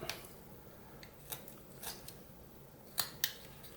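A whittling knife carving a face into a block of wood makes faint, close, short slicing scrapes, a handful of separate cuts with the last two the sharpest.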